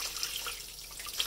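Water running from a kitchen tap into a sink while cooking, a steady close hiss and splash that continues alone for about a second.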